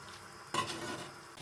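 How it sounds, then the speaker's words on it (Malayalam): Mussels are stirred in a pan with a scraping sweep, over a low, steady sizzle of frying. "നമുക്ക് ഇതിലേക്ക് ഇട്ട് കൊടുത്ത് നന്നായിട്ട് മിക്സ് ചെയ്യാം"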